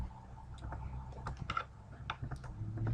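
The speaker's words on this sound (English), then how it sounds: "And then you can type in your name." A name is typed on a computer keyboard, a quick run of soft, close key clicks with uneven rhythm, alone with no talking.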